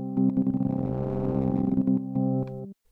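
A stutter effect on the REV software instrument runs with tempo sync switched off, so a sustained harmonic tone is chopped into irregular, fluttering, shifting pulses with a swell in the middle. It breaks into a few short stabs near the end, then stops suddenly, with no voice.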